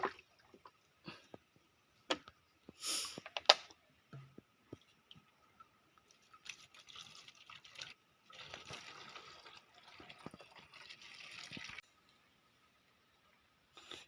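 Water scooped and poured in a rural Thai garden, with scattered splashes and drips early on, then longer runs of pouring and trickling in bursts, fairly close and quiet, with no talking.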